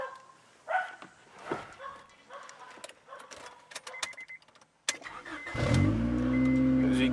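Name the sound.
1997 Honda Accord EX engine starting and running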